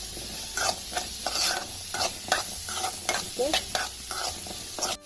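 Radish and onion frying in a pan for chutney, with a steady sizzle broken by repeated close scraping strokes of a spoon stirring through the pieces, plus a brief spoken word near the start.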